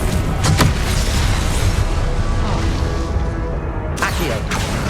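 Spell blasts from combat in Hogwarts Legacy, including a Confringo blast, keep up a loud, dense rumble of booms and whooshes with sharper bursts near the start and end, under overlapping game audio.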